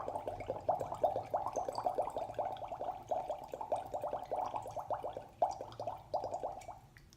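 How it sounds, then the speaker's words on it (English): Air is exhaled through a straw into water in a singing warmup exercise, making a long, even stream of rapid bubbling pops that stays close and fairly soft with no voice over it. "exhale all of the air from your lungs in a nice even stream of bubbles"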